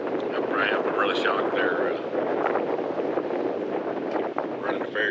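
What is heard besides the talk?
strong gusting wind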